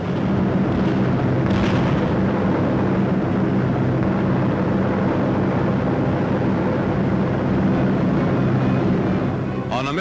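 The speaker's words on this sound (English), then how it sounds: "Workshops were hit with 40 tons of bombs." Heavy rumbling from a 1943 WWII bombing raid on enemy workshops, where 40 tons of bombs were dropped, forms a loud, continuous roar of explosions and aircraft engine drone that lasts throughout with no talk.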